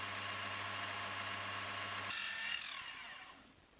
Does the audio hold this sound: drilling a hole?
yes